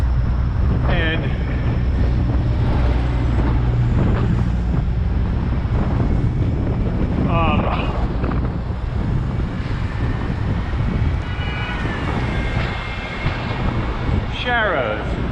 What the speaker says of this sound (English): it's a windy, chilly day today